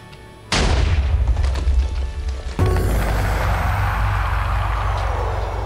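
Two heavy cannon blasts from a warship in a naval combat video game, each a sudden loud boom followed by a long, deep rumbling roar that fills the rest of the clip.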